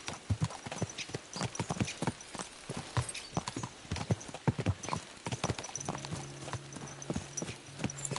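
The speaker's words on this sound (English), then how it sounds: "Let's really spur these horses on, eh?" Horses in a video game galloping with steady clip-clopping hooves, busy and close, with a low droning tone entering near the end.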